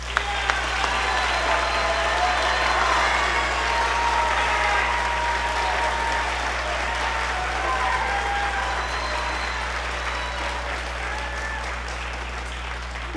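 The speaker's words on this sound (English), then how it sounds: "Please give these students a round of applause." An audience at a school spring band concert applauds students from the beginning band, middle school symphonic band and wind symphony, a sustained, even wash of clapping that fades slightly toward the end, with a low steady hum beneath.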